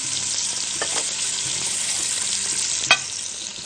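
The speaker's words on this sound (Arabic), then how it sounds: "نشوح بس الفراخ كده" Chicken pieces sautéing in a pan for a vegetable orzo soup, a continuous bright frying hiss with occasional scrapes of stirring and one sharp clack near the end, no talking.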